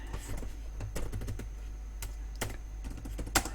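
Someone types a program on a computer keyboard in quick, uneven bursts of close clicks, with a few louder key strikes such as Enter or the space bar standing out.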